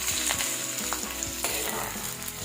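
Ginger, garlic and curry leaves sizzling in hot oil, a bright crackling fry with a few pops and stirring knocks, close and steady over a couple of seconds, with no voices.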